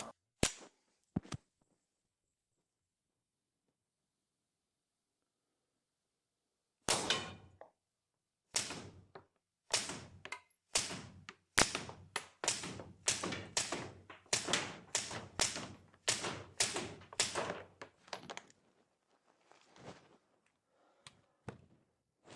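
Suppressed gunshots fired at a target 5 meters away, a couple of sharp cracks, then after a pause a rapid series of about a dozen close, punchy reports with short gaps between them.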